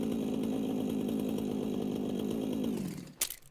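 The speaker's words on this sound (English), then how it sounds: "Got a chainsaw to cut down the trees." A video-game chainsaw runs at steady, loud full throttle for nearly three seconds, then cuts off abruptly with a brief sputter at the end.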